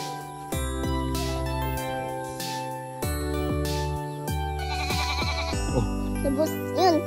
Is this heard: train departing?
no